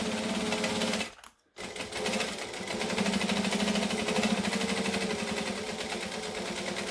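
A sewing machine runs steadily at close range, basting layers of a backpack together with a fast, even stitching whirr. It stops for a brief moment, then carries on at a constant pace.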